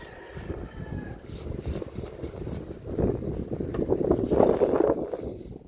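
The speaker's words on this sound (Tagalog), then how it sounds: "Hangin." Steady, gusty wind roars outdoors, building louder toward the end with rustling buffeting against the microphone; no voices.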